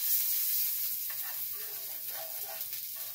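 Sausage frying in a pan, giving a loud continuous sizzle and hiss with faint bubbling crackles throughout, close up and alone.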